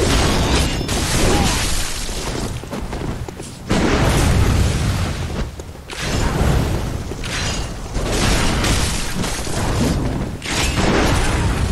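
Repeated loud, booming gunshots and bursts from a video game fill the clip, dense and continuous with brief gaps, including shots from a clock tower sniper.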